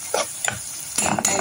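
Onion and garlic sautéing in hot oil in a pan, a soft crackling sizzle broken by a few short scraping stirs, close and steady with no talking.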